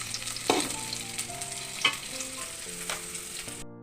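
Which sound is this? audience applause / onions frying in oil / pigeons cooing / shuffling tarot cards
onions frying in oil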